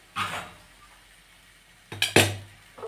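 A lid is set on a pot of water with a soft metallic clink, followed later by a louder double clatter of metal on metal and a final small knock.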